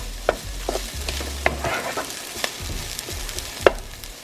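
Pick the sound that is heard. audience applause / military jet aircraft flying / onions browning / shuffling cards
onions browning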